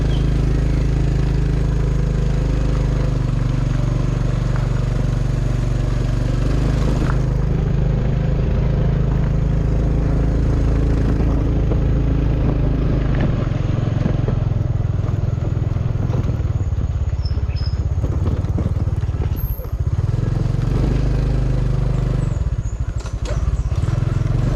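A motorcycle rides over a long, rough, potholed rural road, its engine droning loudly and continuously up close while the frame rattles and clatters over the bumps.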